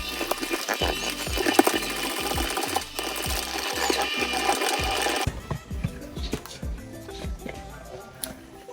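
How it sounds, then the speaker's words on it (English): Electric hand mixer beating coconut cake batter in a home kitchen, a steady dense whir with rhythmic low thumps for about five seconds, then a quieter, looser rattle of the beaters in the bowl. "mix this for about 1 minute. Just mix it to combine it"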